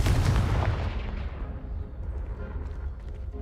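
A Confringo fire spell in the Hogwarts Legacy video game bursts with a loud, booming blast at the start. The blast rumbles and fades away over a few seconds.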